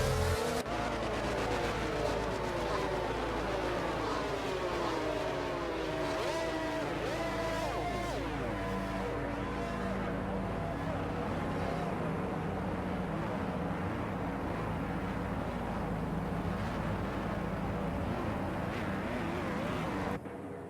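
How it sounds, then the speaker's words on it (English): F1 cars in the F1 22 video game on a formation lap, with several high-pitched racing engines droning steadily close by and shifting in pitch, no talking, for the whole stretch. "As the cars make their way back to the starting grid to form up and get ready for lights out"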